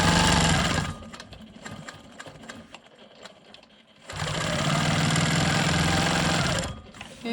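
A Quilt Maker Pro 20 quilting machine stitches in the ditch with a steady, rapid close-up whir. It runs for about a second, goes quiet briefly, then runs in a longer loud burst before stopping.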